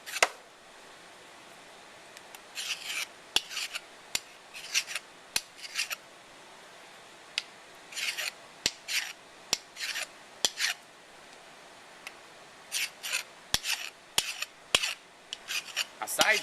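A hand file rasps across the edges of a metal block to deburr it, in short bursts of scraping strokes separated by quiet pauses and light clicks, close and fairly quiet, with no talking.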